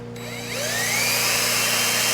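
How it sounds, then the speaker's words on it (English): A power drill spins up quickly and holds a steady high-pitched whine, loud and close, with a constant motor hum underneath, while cleaning a lawnmower part with a cotton bud. "And then turn my drill nice and fast."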